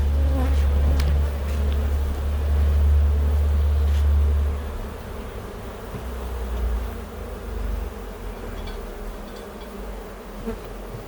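Honeybees buzzing at an opened hive during a spring inspection, a dense, continuous close drone that is loudest at first and then eases slightly, with scattered faint handling noises.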